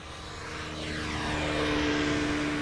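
An airplane arriving on the Polderbaan runway at Amsterdam Schiphol, its engine roar rising steadily and sweeping in pitch as it passes, loud and continuous with a sustained tonal whine.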